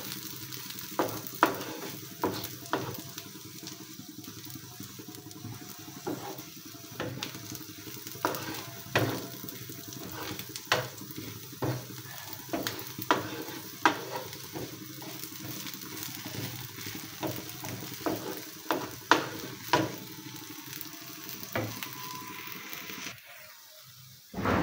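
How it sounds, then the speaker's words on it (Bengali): Black cumin seeds fry in a pan for a Bengali kalojira bhorta, a steady close sizzle broken by frequent sharp scraping clicks as they are stirred throughout, with no voices. "জাস্ট শুধু একটু কাঁচা গন্ধটা যাতে বের না হয়, এরকম পর্যায়ে একটু ভেজে নিতে হবে।"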